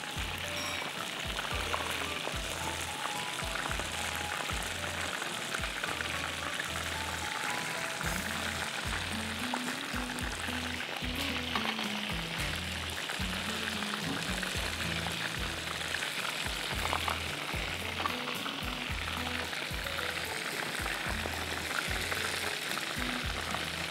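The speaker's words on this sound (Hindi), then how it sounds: "हमने फिश को बैटर में डिप किया है ये और फ्राई कर रहे हैं।" Batter-dipped fish deep frying in hot oil gives a loud, dense, continuous crackle and bubbling, with a low rhythmic thumping underneath throughout, and no talking.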